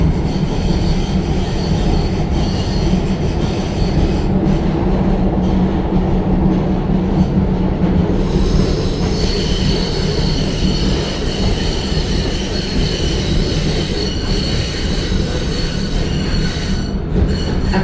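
An MBTA Green Line train bound for Medford/Tufts rides toward Science Park, its steady loud rumble and rattle topped by a sustained high metallic wheel squeal throughout.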